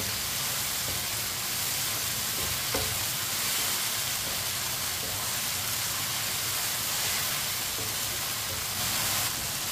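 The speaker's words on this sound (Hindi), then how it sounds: "प्याज और टमाटर डाल के 2 मिनट के लिए पका लेते हैं।" Onion and tomato fry in a pan with a loud, steady sizzle that stays even and close throughout, with no voices over it.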